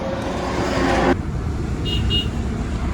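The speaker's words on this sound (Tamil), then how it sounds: "டூ வீலர்லாம் ஓவர்டேக் பண்ணி போகிறாங்க" Road traffic with two-wheelers overtaking, a continuous low motor rumble and passing-vehicle noise heard close by, a brief higher whine fading out early, then a couple of short faint horn-like beeps.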